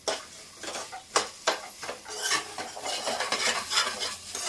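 Okra frying over a high flame for an okra tomato curry, with a bright sizzle broken by repeated scraping stirs of a spatula against the pan, close and clear.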